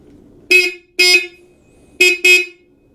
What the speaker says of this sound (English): Well, the horn works.